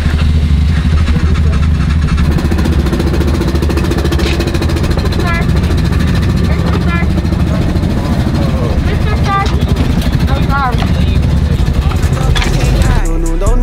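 A loud ATV engine runs steadily the whole time, a continuous low rumble with revving, under music with singing and some talk, near the water.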